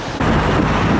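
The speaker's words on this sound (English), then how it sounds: "Very strong wind here, as it was in the past." Heavy wind roars into the microphone on a bridge in Saint Petersburg's city center in October, a loud, constant rushing blast that swells after a brief quieter moment.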